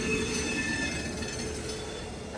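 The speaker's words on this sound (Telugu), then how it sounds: "ప్లాట్ఫామ్ నెంబర్ 1 లోకి ఇప్పుడే ఏదో ట్రైన్ వస్తుంది" A train rolls into platform 1 at Vijayawada Junction with a steady loud rumble and thin high wheel squeal, a continuous close wash of rail noise with no voices.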